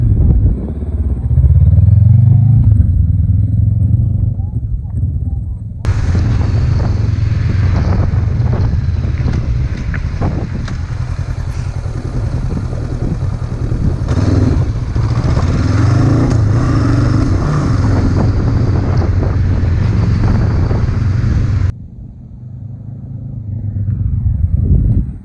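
Motorcycle ridden through a slalom course during licence training, its engine humming steadily and picking up speed, heard through heavy wind buffeting on the microphone, with a quieter stretch at the start and end.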